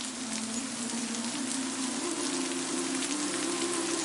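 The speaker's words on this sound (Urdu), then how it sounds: "موسلادھار بارش کی آواز آ رہی ہے" Heavy torrential rain pours in a dense, unbroken hiss that stays at an even level throughout, with no talking.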